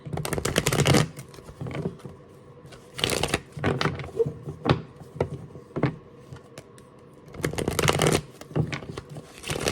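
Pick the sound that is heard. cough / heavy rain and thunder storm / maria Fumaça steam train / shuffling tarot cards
shuffling tarot cards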